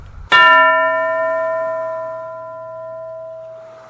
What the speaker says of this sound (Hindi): अब जब घंटी बजेगी